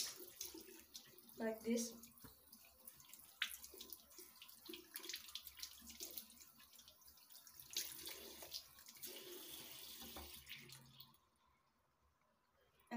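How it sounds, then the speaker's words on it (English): Tap water runs steadily into a sink while hands are washed for ablution before prayer, a continuous splashing flow lasting about eleven seconds and then cutting off, with a brief voice speaking over it. "the first step, wash our hands 3 times"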